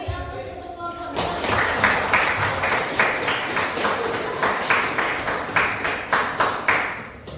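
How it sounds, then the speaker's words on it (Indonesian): A classroom group applauds for a student team, with rhythmic, fairly steady clapping swelling after a short spoken opening and continuing near and loud. "kita beri aplaus untuk kelompok 2"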